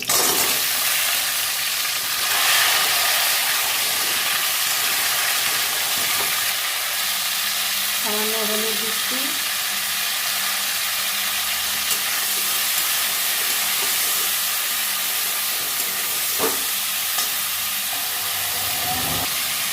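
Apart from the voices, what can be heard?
cauliflower frying in oil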